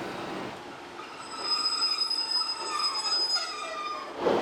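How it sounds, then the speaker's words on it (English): A train arriving at a station on the English Riviera line, steady rumbling with high, sustained wheel squeal ringing over it as the carriages roll in close by, no voices. "I'm about to get interrupted by a train arriving"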